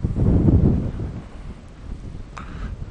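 Gusty wind buffets the microphone outdoors during a rain test of a Klim Carlsbad motorcycle suit, loud at first and then easing into a steady rushing background.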